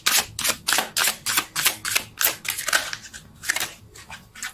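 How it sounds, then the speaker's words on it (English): A rapid series of crisp, papery riffling bursts as a deck of tarot cards is shuffled, about a dozen in quick rhythm, close up with no talking. "Let's see if I can shuffle."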